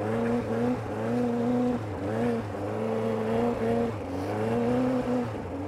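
A car powersliding and drifting with its back end held out, the engine droning steadily loud and close with rising and falling revs and a faint tire hiss, no talk over it.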